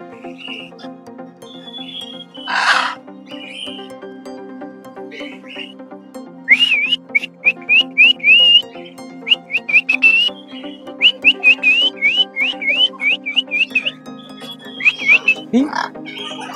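Birds calling in an aviary at Darjeeling zoo: a loud, close series of sharp, rising whistled notes repeated in quick bursts, with a harsh squawk early on and softer chirps behind.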